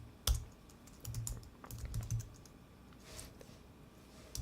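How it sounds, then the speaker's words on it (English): Typing on a computer keyboard while coding an Angular tutorial, a few irregular clusters of close, soft key clicks with pauses between, fairly quiet and with no talk. "I'll just type it."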